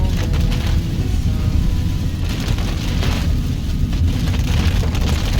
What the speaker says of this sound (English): this rain is coming down on us now.